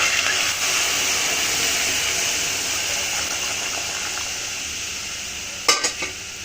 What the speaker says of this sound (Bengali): আমি দুধটা ঢেলে দিব